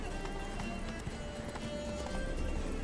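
Roach, Geralt's horse in The Witcher 3: Wild Hunt, gallops with fast rhythmic hoofbeats and occasional whinnies, set against dense game music and ambience.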